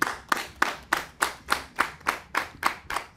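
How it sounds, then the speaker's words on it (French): An audience claps in a steady rhythm, roughly three beats per second, with close, crisp, evenly spaced hand claps sounding throughout and no talk over them. "Est-ce qu'on peut l'applaudir très très fort, s'il vous plaît, cher ami?"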